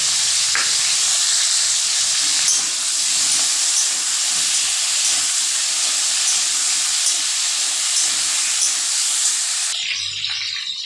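Spice paste of ground chilli, ginger, cumin and garam masala frying in a pan for a fish curry, a loud steady sizzle and hiss that runs unbroken for about ten seconds before cutting off near the end.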